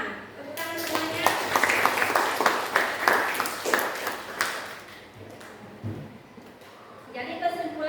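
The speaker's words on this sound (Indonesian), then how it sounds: "Tepuk tangan semuanya" Group applause from a classroom of students after group presentations: a burst of rapid, overlapping claps that swells and then fades, with people talking throughout and a voice continuing afterward.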